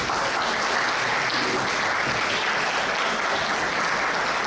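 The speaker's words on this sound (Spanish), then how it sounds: "para quien también le voy a pedir un aplauso" Steady, dense audience applause fills a lecture hall at a Humanities department event on Puerto Rico's economy, sustained at even loudness for the whole stretch with no voices.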